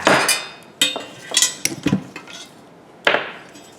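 Header bolts come off a 1997 Ford F150 4.6L engine with a handful of sharp, close metallic clinks and knocks from tools on metal, spaced irregularly with short quiet gaps and no talking.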